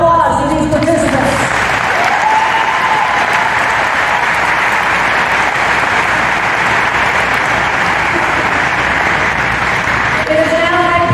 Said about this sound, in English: Please join me in a round of applause for these participants.